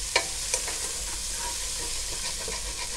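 Cream spinach with mushrooms is stirred in a pot, giving a soft steady hiss of gentle simmering with a couple of faint utensil taps early on, quiet and without talk.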